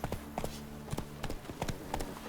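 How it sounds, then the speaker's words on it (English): Roach, Geralt's horse in The Witcher 3: Blood and Wine, galloping with a steady, rapid rhythm of hoofbeats, close and fairly loud over a low background. "Even a horse drops if you ride it with a constant gallop"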